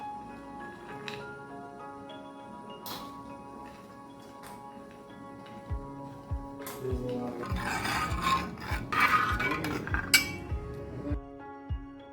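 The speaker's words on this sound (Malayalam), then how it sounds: "കാഷ്യൂനട്ടും റൈസിൻസും നമുക്ക് ഇതിലേക്ക് മൂപ്പിച്ചിട്ട് കൊടുക്കാം" Cashew nuts and raisins fry in a pan for a Karkidaka Vavu ada pradhaman, giving a soft rasping sizzle with scraping and clinking of a utensil against the pan, growing busier and louder toward the end, with no talk.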